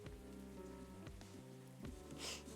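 Steady rainfall patters in a continuous hiss inside the café-themed video game Coffee Talk, mixed under a low soft music bed with no talk.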